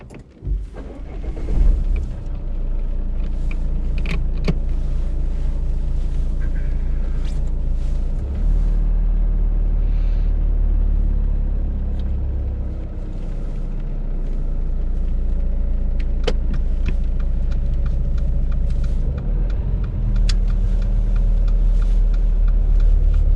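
A car hums along with a steady, low engine rumble from inside the cabin throughout a learner mock driving test, with occasional clicks and small bumps.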